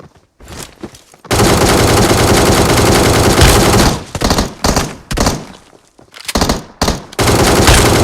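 Automatic gunfire in PUBG Mobile on the Erangel map: a long sustained burst that then breaks into several shorter bursts separated by brief pauses, loud and close, with no talking.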